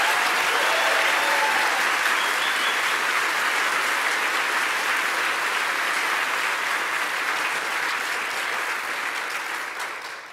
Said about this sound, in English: So can we get a huge round of applause for Cam?